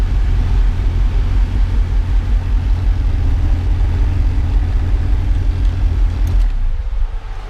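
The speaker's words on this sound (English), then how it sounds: "I cannot get over the cams in this thing. Thank God, it starts right up." A car engine with aggressive cams idles loudly and close, a steady lumpy low rumble that shakes the car, easing off near the end.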